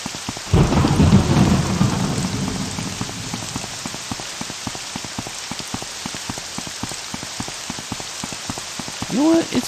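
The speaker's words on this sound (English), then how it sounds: "It's been raining a lot in this game." Heavy rain patters steadily in the OpenMW game world while a loud, rumbling thunderclap rolls through early on, fading into continuous rainfall with a second low rumble near the end.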